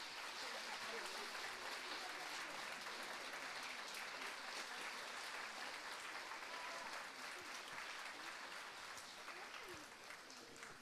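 Steady, dense applause from a large audience at a dance show in a Płońsk cultural centre, continuous and even throughout with no pauses.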